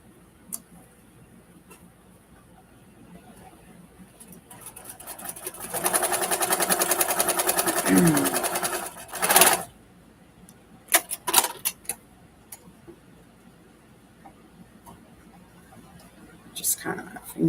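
A sewing machine stitching a scrappy string quilt block made of starched fabric, a steady rapid whir lasting a few seconds, followed by light clicks and handling noises while a person talks.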